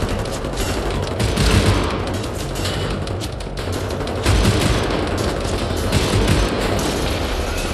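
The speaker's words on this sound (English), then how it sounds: "You can't dismount that machine gun." Mounted machine gun in Wolfenstein The New Order roaring in long, sustained bursts of dense rapid fire, loud and close throughout with mixed battle booms.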